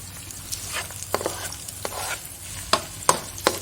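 Raw prawns (udang) sizzle in a hot pan as they are stirred, with a soft continuous frying hiss and several crisp spatula scrapes and clicks at irregular intervals, heard up close with no talking.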